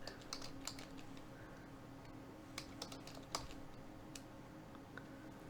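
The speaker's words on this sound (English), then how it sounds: "let me just type this real quick" Computer keyboard typing in quick, irregular bursts of clicks spread across the clip, fairly faint over a steady room hum, with no talking.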